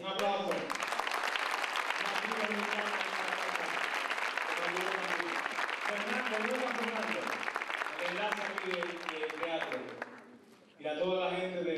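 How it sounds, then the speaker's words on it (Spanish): A theatre audience applauds loudly and continuously while someone speaks over the clapping; the applause dips briefly near the end before surging back. "Un aplauso."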